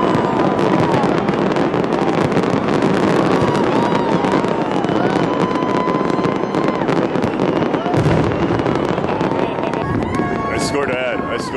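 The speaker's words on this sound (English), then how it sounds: "So much smoke around here, you can't see the fireworks." New Year fireworks over Las Vegas crackle and pop continuously in a loud, dense barrage amid a crowd, with voices talking throughout and some wind buffeting.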